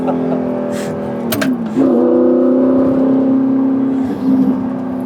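An Audi R8 with a manual gearbox and quattro drive blips its engine on a downshift: a smooth rising tone, a sharp dip and gear change, then a higher sustained engine note and another brief swell, loud and close.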